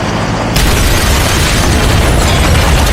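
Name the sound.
house exploding after a gas leak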